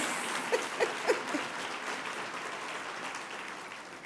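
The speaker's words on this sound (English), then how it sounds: "Please give them a round of applause." Sustained applause from an audience at an awards ceremony honoring a woman executive of the year, a steady dense wash of clapping with a few sharper claps standing out near the start, fairly distant and even throughout.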